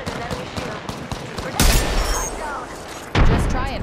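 Gunfire in the battle royale game Apex Legends: two loud, sharp broadband bursts land near the middle and end of the clip, over constant game noise and chatter from players talking.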